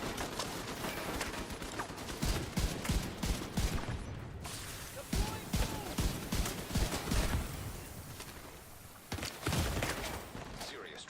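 Bursts of enemy light machine gun fire crackle in The Division 2, loud and rapid, with short pauses between volleys across the whole stretch.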